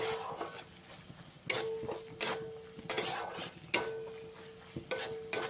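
A spoon scrapes and knocks against a pan, mixing turmeric and Kashmiri chili powder into a soybean and potato curry. The strokes come in a loose rhythm of sharp clinks over a faint sizzle.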